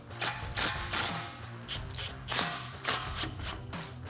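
Ratchet wrench snugging exhaust bolts on a Ford EcoBoost F-150 during a Flowmaster Force II dual exhaust install: close, quiet bursts of rapid clicking come in a steady rhythm, with brief pauses between strokes.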